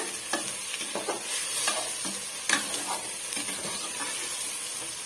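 Egg biryani ingredients sautéed and stirred in a hot pan, with steady sizzling and frying hiss throughout and scattered scraping stir strokes, close and moderately loud, no talking.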